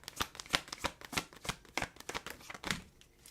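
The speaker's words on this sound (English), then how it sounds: "I'm doing a good shuffle for you." Tarot cards being shuffled by hand, a quick run of crisp riffling flutters and soft slaps in an irregular rhythm, close and fairly quiet with no voice.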